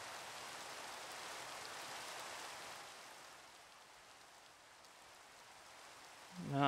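Steady Minecraft rain makes a soft, even hiss that thins slightly midway, with a brief louder knock or voice at the very end.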